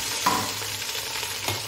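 Onions with salt and ginger paste fry in a pan for a koramenu fish curry, a soft continuous sizzle broken by two scraping stirs of the spatula, with no one talking.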